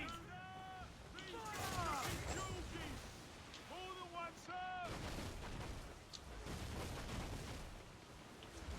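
Ship cannons fire in Assassin's Creed Black Flag, with booming shots rolling through a naval battle. Shouted orders and voices from the game carry over the gunfire, and a loud blast hits near the middle.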